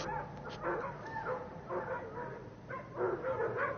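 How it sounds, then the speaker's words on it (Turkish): Dogs bark and yip in short bursts at moderate distance, several calls overlapping with a faint whine now and then, no voices. "Köpekler bu gece huysuz."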